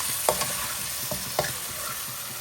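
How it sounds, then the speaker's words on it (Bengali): Chicken with spices sizzling in a frying pan under a steady hiss, with a few soft stirring scrapes, close and moderately loud. "চিকেনের সাথে সবগুলো মশলাকে ভালো করে মাখিয়ে নিচ্ছি।"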